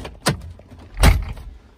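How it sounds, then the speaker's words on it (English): A Crown Victoria car door shuts twice, a lighter thump followed a moment later by a heavier, solid slam, each close and short, with quiet background between. "All right, that door is shut,"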